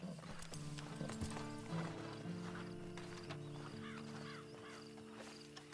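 Horse hooves clop steadily alongside a neigh, with a low sustained musical drone and ambient sounds beneath, in the video game Red Dead Online.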